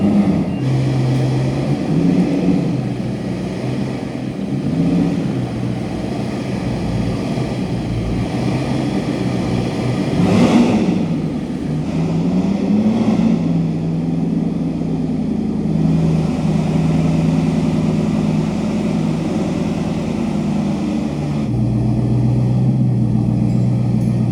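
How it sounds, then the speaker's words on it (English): A Bugatti Bolide hypercar at the close of a Concours d'Elegance in Singapore, driving off with a loud, deep engine drone that swells and pulls away, one sharper revving burst rising briefly in the middle. "There goes the Bolide, super loud."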